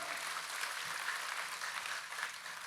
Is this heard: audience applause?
yes